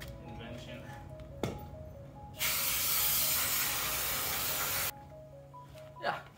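Aerosol brake cleaner sprayed onto car parts during work on a Mustang, a steady loud hiss lasting about two and a half seconds, framed by quieter workshop background with brief clanks before and after.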